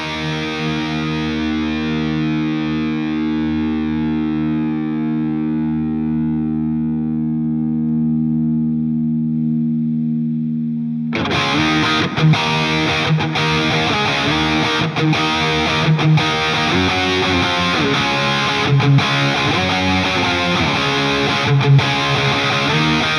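Electric guitar run through AmpliTube's Brit Green amp and cabinet simulation: a clean sustained chord rings out and decays for about ten seconds, then loud, continuous distorted riffing takes over with no talking.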